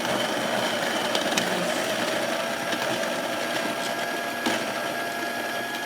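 A Baratza Encore coffee grinder with a flow control disc grinds beans at an espresso setting, giving a continuous, loud, steady whir throughout.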